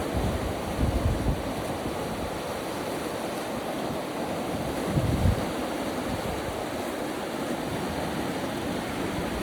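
The swollen Kosi river in monsoon flood near Dhikala in Jim Corbett rushes past as a loud, unbroken roar of churning water, steady and close, with brief swells of louder turbulence and no voices.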